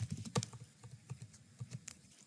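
Quiet clicking of keys on a computer keyboard as a command is typed, with uneven bursts of taps and short pauses, close but faint.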